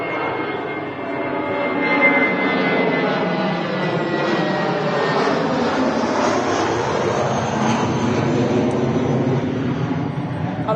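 British Airways jet at Manchester Airport, a loud, close, sustained roaring engine rumble with a slowly shifting whine as the aircraft passes.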